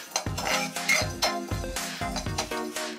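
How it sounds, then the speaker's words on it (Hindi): Cloves and fennel seeds dry roasting in a pan over a low flame, a spatula clinking and scraping against the metal in a steady rhythm about twice a second, close and with no voices. "इन सबको हम ड्राई रोस्ट कर लेंगे।"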